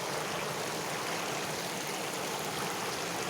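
Water flowing at a hot spring bathing pool, a dense, continuous rushing wash like a stream, steady and loud with no talk.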